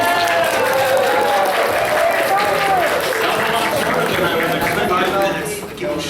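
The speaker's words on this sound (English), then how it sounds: "That's when you're supposed to clap." A convention audience at a riffing panel at Everfree Northwest 2024 breaks into loud, dense applause mixed with cheering and voices, steady throughout and tapering slightly near the end.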